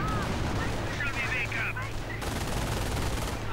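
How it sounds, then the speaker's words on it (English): MG42 machine gun fire in a World War II strategy game battle, with dense, continuous gunfire and explosions blending into a loud, sustained roar. "MG42 firing away as well."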